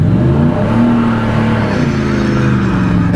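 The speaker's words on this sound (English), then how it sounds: "A little bit of wheel spin." A third-generation Chevrolet Camaro Z28 V8 accelerates with a bit of wheel spin, its loud engine note rising steadily and close by over a brief burst, with no speech.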